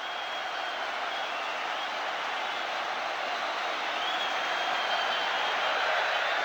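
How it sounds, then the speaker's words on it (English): Rugby crowd at Lansdowne Road in a 1987 Five Nations match between Ireland and England, applauding a try: a dense, continuous wash of clapping and cheering from a large stadium that swells slightly toward the end. "The whole of Lansdowne Road is on its feet and applauding."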